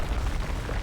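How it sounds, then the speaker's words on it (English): A deep, rumbling explosion in the video game Yakuza: Dead Souls fills a short moment with loud, sustained low-end roar and no distinct onset, no talking. "That was an explosion."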